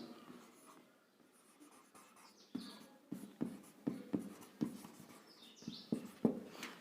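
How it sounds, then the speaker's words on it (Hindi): Chalk tapping and scraping across a classroom board during an English lesson, a run of short sharp strokes that grow louder and more rhythmic toward the end, with no talk. "दूसरा मैं यहां लिख देता हूं"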